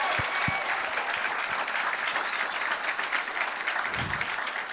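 Audience applause for a rapper at a live speaking event, a steady dense wash of clapping filling the whole stretch, close and loud, with a couple of sharper claps near the start.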